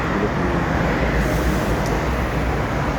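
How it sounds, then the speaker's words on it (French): Steady traffic noise from cars passing on a nearby road, a continuous broadband rumble with no breaks across the whole stretch and no talking over it. "c'est les voitures qui passent"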